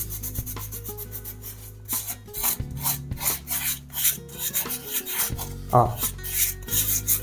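Steady hand sanding of a painted calla lily flower piece, a close, continuous rasping rub repeated in short strokes, with a brief spoken word near the start.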